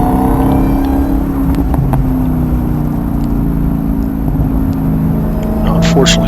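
A Dodge Hellcat driven during a race track session, its engine droning steadily from inside the cabin with a constant loud low roar and whine, occasional clicks and knocks, and a voice talking over it.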